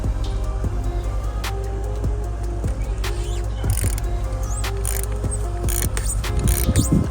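A ratchet turns a socket to loosen the oil filter on a BMW E36: steady, close mechanical clicking runs under a constant background hum, with short bursts of sharper metallic clatter.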